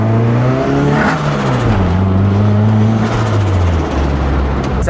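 A boosted Nissan 240 pulls away under hard acceleration, its engine note climbing steadily in pitch through a gear, loud and close, running alone without voices.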